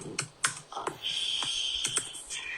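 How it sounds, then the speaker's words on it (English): Fingers tap on a computer keyboard in an irregular string of quick, crisp clicks, close and fairly clear against a faint steady hiss. "I love that you just said out loud everything that you were just typing there"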